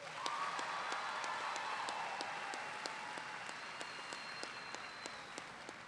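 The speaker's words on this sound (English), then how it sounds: "please give one more round of applause to the graduating class of 2022" Sustained applause from the audience at a North Cobb High School graduation ceremony for the class of 2022, a dense wash of many hands with a few sharp, louder claps rising above it and no talking.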